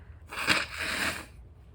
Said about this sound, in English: I need to blow my nose, pardon me.